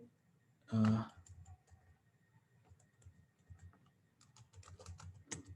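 Someone types Python code on a computer keyboard, with soft, scattered key clicks running through the clip and a denser burst near the end, after one loud thump early on.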